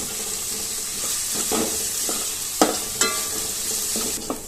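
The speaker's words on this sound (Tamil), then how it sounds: "கூடவே ஒரு கத்து கருவேப்பிலையும் போட்டு நல்லா வெங்காயத்தை வதக்கிக்குவோம்." Sliced onions and curry leaves sauté in hot oil for a bottle gourd gravy, giving a steady close sizzle broken by a few sharp scraping stirs of a spoon in the pan.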